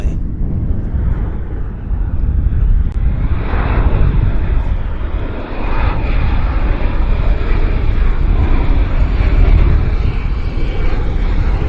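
A United airliner lands on runway 26 right at Vancouver airport in a crosswind, its engines making a loud, steady roar that swells and carries on without a break.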